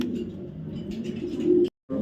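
Racing pigeons of a foreign racer bloodline coo in a low, steady murmur close by, the throaty burbling running continuously before a brief cut, then resuming.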